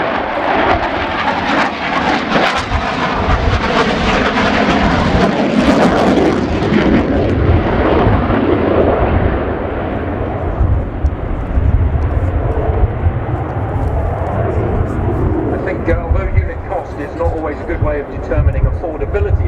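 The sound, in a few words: Romanian Air Force MiG-21 LanceR C jet flying display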